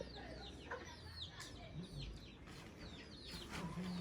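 A hen clucks in a rural farm field, soft repeated clucks scattered among chirping birds, faint and some distance away, with no talking.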